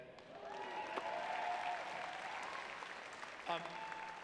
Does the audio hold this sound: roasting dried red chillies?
no